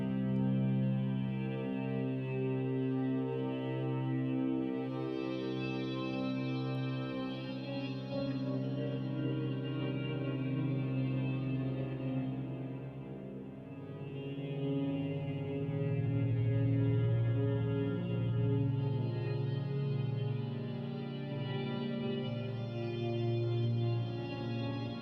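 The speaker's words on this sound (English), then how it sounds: "it just kind of gives it to me like a little bit of a digital kind of distortion" A synth drone pad built in Ableton runs through a gritty digital distortion effect, a sustained buzzing, harmonically rich tone that swells and dips slowly over about twenty-five seconds with no voices.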